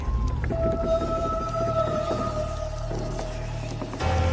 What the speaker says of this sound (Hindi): आवाजें सुनो, हल्की हल्की आ रही सियारों की